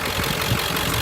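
A 2003 Ford F-550 XL utility truck engine idles with a steady, even rumble, heard close and continuous with no voices.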